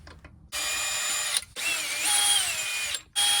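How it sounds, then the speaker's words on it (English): A power tool spins lug nuts off the front wheel of a 2003-2009 Toyota 4Runner, two whirring runs with a ratcheting whine that rises and falls, broken by brief pauses, loud and close. "I'm going to fully remove those lug nuts that we broke free."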